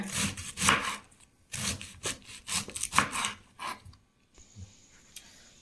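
Rapid rough scraping and crunching strokes of a vegetable chopper blade cutting through violet cabbage, repeated in quick bursts close by, ending quieter.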